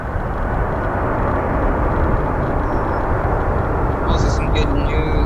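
Boeing 737 airliner with logo winglets at O'Hare airport, a steady broad jet roar that stays loud and even throughout, with faint higher tones near the end.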